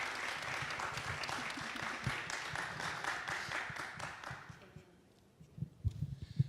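An audience at a film festival talk in a university hall applauds filmmaker Helga Fanderl, a dense sustained round of clapping that gradually fades out, followed by a few scattered bumps and handling noises.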